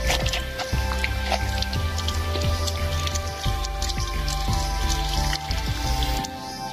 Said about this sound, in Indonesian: Cuci tangan dengan air